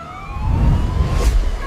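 A wailing siren sweeps through dense traffic on busy Vijayawada city roads, its rising and falling tone loud and fairly near over a low rumble of engines, with no voices.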